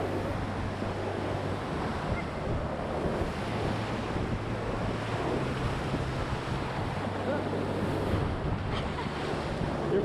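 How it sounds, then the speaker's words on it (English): White River rapids pour into the Deschutes River on the east side of Mount Hood, heard from a raft: a steady, loud roar of rushing whitewater with wind buffeting the microphone, no talking. "this is White River feeding into the Deschutes, coming off the east side of Mount Hood"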